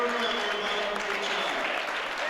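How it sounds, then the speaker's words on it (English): Steady round of applause from a crowd at a powerlifting meet after a bench press attempt, with dense, even clapping throughout and no voices standing out. "a nice round of applause"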